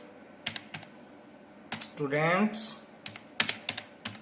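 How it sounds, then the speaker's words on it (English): Someone types on a computer keyboard, entering names into a table: bursts of quick clicks and taps with short pauses, close and clear, while a voice speaks briefly in between. "Now I'm just typing"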